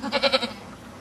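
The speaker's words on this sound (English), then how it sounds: "Hey, goats." Several goats on a farm bleat in a quick run of four or five close, fairly loud calls, then fall quiet.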